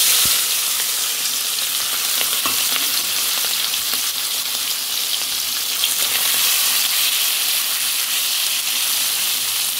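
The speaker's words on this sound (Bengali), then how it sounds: "তেলটা একটু গরম হয়ে গেলেই আমি চিংড়ি মাছটা ভেজে নেব" Prawns fry in hot oil, a loud, steady, close sizzle and crackle that runs unbroken for about ten seconds, with a few faint pops and stirring clicks.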